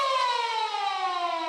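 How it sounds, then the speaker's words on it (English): A very loud siren at a rugby league ground marking half time, a single sustained tone sliding slowly downward, close and alone. "A very loud siren and a very good first half of Ladies League Tag between these two teams."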